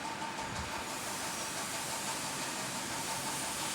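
Cumin and mustard seeds sizzling in two spoons of hot oil in a kadhai while pav bhaji is being made, a dense, even hiss that holds steady throughout, loud and close with no talking.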